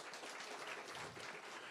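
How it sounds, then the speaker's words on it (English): An awards-night audience gives brief applause for an associate dean, a faint, dense patter of many hands clapping without any voices. "Round of applause for Mike, please."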